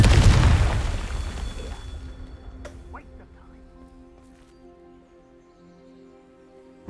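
A blasting spell's explosion bursts loud and close at the start, then its booming rumble slowly fades away over several seconds, with a few faint clicks trailing behind.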